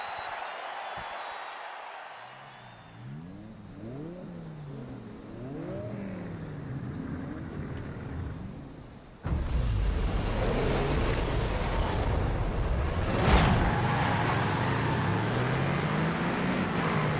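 Engine revving from a car with an aftermarket exhaust in Forza Horizon 5, rising and falling in repeated pitch sweeps, then a louder, denser stretch of engine and road noise as the car drives hard.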